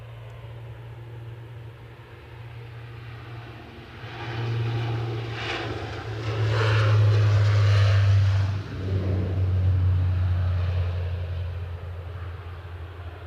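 A Loganair aircraft at Aberdeen airport drones steadily, its engine roar swelling from about four seconds and holding loud and close before easing slightly, with no talk over it.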